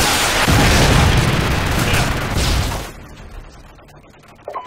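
A Predator missile strike in Modern Warfare 2 on the Estate map lands as a heavy, loud rumbling boom that roars for a few seconds and then fades, leaving a quieter tail with a faint late clatter.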